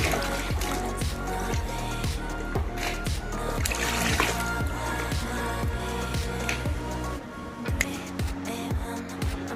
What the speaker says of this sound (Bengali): ভালো করে এখন ভেন্ডিগুলোকে ধুয়ে নিয়ে তুলবো, সুন্দর করে পরিষ্কার করে ধুয়ে